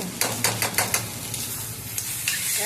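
Mashed cauliflower frying in a pan, stirred in a quick run of sharp, rhythmic scrapes over a steady sizzle; close and fairly loud, with no voices.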